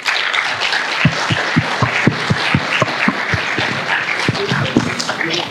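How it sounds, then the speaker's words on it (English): Audience applause at a DevFest Gandhinagar 2023 Google developer event, a steady wash of many hands clapping for several seconds with a few sharper individual claps standing out, fairly close and loud, with faint voices underneath. "So give a big round of applause for Manoranjan"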